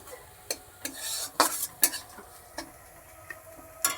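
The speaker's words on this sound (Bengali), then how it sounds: "শাকের ফল এই যে ভাজা করতেছি" Pui shak fruit stirred as it fries in a pan, with a series of sharp scraping and clinking utensil strokes at irregular intervals over a faint sizzle, close by.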